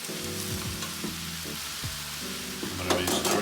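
Mushrooms dropped into a hot pan sizzle loudly and continuously, with stirring scrapes and small crackles that grow busier toward the end.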